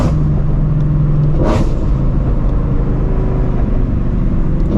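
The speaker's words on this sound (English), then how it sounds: "You got popping damn near every single shift with this car." A Shelby GT350's exhaust roars loudly from close by during a late-night drive, a steady rumble broken by a sharp burst around a gearshift, with no voices.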